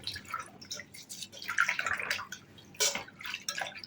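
Fenugreek leaves are washed by hand in water, giving soft splashes, drips and sloshing in short irregular bursts, close and fairly quiet.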